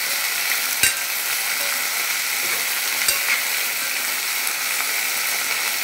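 Chopped okra (bendakaya) is stirred in a pan, a dense continuous sizzle close up, with a couple of sharp knocks of the utensil against the pan.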